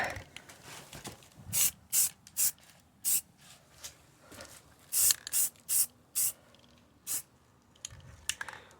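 Spray can applying flat black paint to Jeep Cherokee XJ leaf spring brackets, heard as a series of short hissing bursts, close and fairly quiet, with a few longer sprays and pauses between them.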